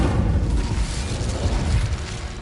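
The Incendio fire spell is cast in the Hogwarts Legacy video game, a loud, deep whooshing roar of flame with a low booming rumble that sustains throughout.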